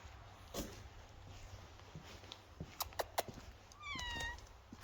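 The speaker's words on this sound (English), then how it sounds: "How you doing, Nina, barn cat?" A small farm barn cat, mother of a litter of kittens, meows in a garage with a rising, drawn-out cry near the end. Scattered footsteps and clicks of movement come before it, all fairly faint.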